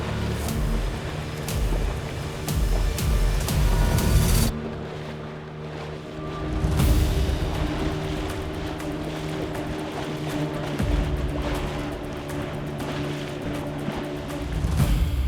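Waves wash against a fishing boat out on Lake Victoria at night, a continuous loud rush of water and wind with steady engine-like rumble, briefly dipping before surging back.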